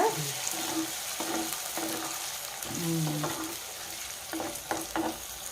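Ingredients for a palak tomato curry fry until well reddened in a hot pan, with a continuous close sizzle broken by repeated spoon stirs and scrapes.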